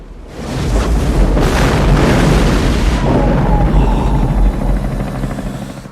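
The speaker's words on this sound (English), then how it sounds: "I love explosions in movies." A loud, booming explosion from the 1992 film Patriot Games rolls out and roars steadily for several seconds, with a deep rumble that slowly fades near the end.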